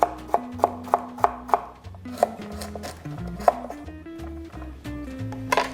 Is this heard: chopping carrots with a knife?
yes